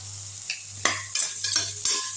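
Masala being stirred into sautéed vegetables in a pan for Maggi: quick scraping strokes of a spoon against the pan over a soft sizzle, close and fairly loud, no voices.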